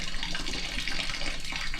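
Fluid draining from a 1954 Chevrolet 210 Deluxe during basic maintenance, a continuous splashing trickle of liquid pouring steadily into a container, close and moderately loud with no talking.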